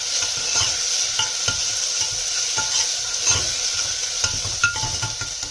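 Ginger garlic paste with spices, including turmeric, fries in a pan for a soya and potato curry, giving a steady close sizzle broken by repeated scraping taps of a spoon stirring against the metal.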